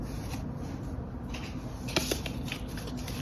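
Tarot cards shuffled and drawn from a deck, a soft, faint riffling with a few sharper card flicks partway through, heard alone over a low background hum.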